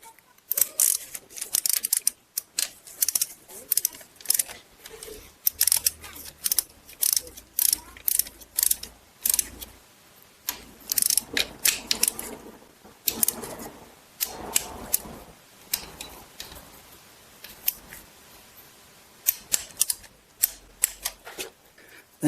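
A ratchet torquing bolts on a GM 2.4 Ecotec engine, giving repeated bursts of sharp metallic clicking in quick runs with short pauses between them. The sound is close and loud, with faint rustling between bursts.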